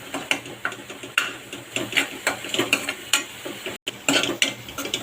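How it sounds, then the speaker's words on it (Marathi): A spoon stirs and scrapes a spice masala sautéing in a pan with a little water, giving repeated sharp metallic clinks and scrapes in an irregular rhythm, close and moderately loud, with no talking. "आपण हे सगळे मसाले परतून घेते थोडंसं पाणी घालते"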